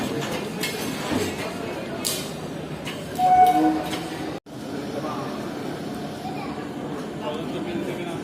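An AC local train pulls into platform one at Sealdah railway station, a broad rumbling roar of wheels and carriages with a brief horn-like tone, amid station chatter and a voice talking nearby.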